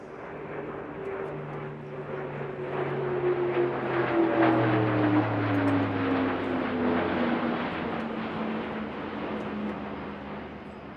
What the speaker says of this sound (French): La 400M va revenir à présent à grande vitesse